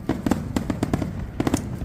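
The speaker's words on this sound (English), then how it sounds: "There are fireworks going off." Fireworks bursting during a live show, a rapid series of sharp cracks and pops in uneven clusters, fairly loud against a dense background rumble with faint voices underneath.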